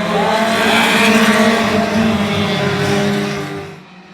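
Race cars of the Outlaw Super Series roar around the track in a loud, sustained engine howl that swells and then fades away near the end.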